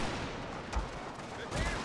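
Distant battle gunfire and cannon fire in a strategy video game set in the Far East with Prussian forces, low booming blasts at irregular intervals over a dense rumbling din, somewhat faint.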